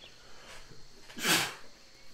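A single sharp sneeze bursts out close by, preceded by a faint intake of breath, over quiet background hum.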